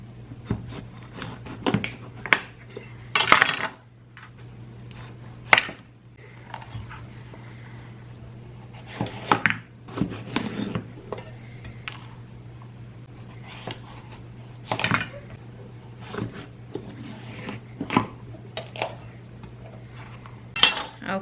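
A knife works through a whole pumpkin for a homemade pie, giving scattered clacks and thuds of the blade on a cutting board, with quiet scraping between strikes over a steady background hum.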